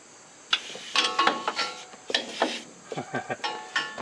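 A ratchet fitted with a 10 mm socket clicks on an exhaust bolt of a Kawasaki Mule, close and crisp, with bursts of rapid pawl ticks and short pauses between strokes.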